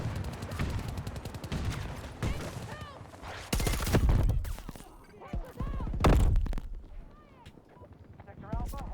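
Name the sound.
gunfire from a gun in video game Battlefield 2042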